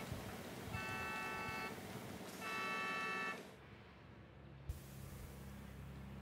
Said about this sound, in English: More horns sounding, though, from the trucks themselves.